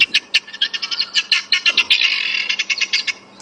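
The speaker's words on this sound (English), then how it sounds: "So that is the sound of the helmeted guinea fowl." A recorded helmeted guinea fowl call plays from a small device on an evening safari drive, giving a loud, rapid series of harsh chattering notes that run together into a continuous burst, with no one talking.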